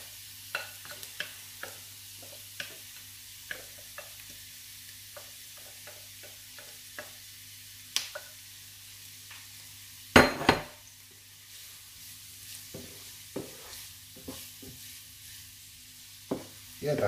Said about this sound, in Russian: Морковочка с лучком уже протушилась чуть-чуть.